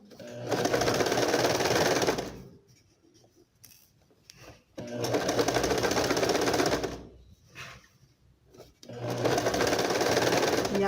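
Sewing machine running in three long, fast stitching bursts along a trouser crotch seam, separated by pauses with quiet handling sounds and some speech.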